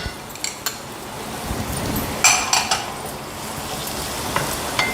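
Chopped beans and other vegetables for fried rice sizzle steadily in a hot pan while a utensil scrapes and clinks against the metal now and then, close up.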